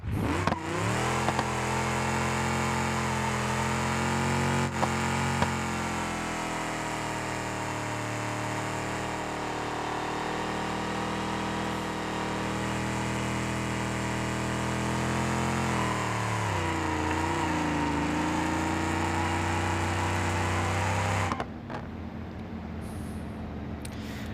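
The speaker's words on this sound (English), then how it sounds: "let's see how well it can do a burnout" A car doing a burnout in BeamNG.drive, engine held at a loud sustained high rev for about twenty seconds with pitch shifts and a brief dip, then cutting off abruptly near the end, no talk.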